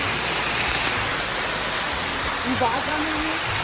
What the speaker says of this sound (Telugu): అందుకే ఈ వాటర్ ఫాల్ చాలా భయంకరంగా ఉంటుంది